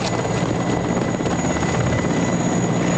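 A helicopter is heard close by, its rotor beating in a loud, steady, unbroken drone that lasts the whole stretch with no voices over it.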